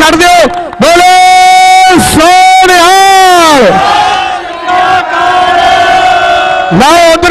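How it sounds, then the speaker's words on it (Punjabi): A large crowd at a kabaddi tournament in Deharka, Jagraon, roars a loud drawn-out jaikara in unison, with several surging shouted waves close to the microphone that fill the whole stretch. "ਇੱਕ ਵਾਰ ਜ਼ੋਰਦਾਰ ਤਾੜੀ ਬਾਬਾ ਮੱਘਰ ਸਿੰਘ ਦੇ ਨਾਂ ਤੇ ਜਕਾਰਾ ਛੱਡ ਦਿਓ"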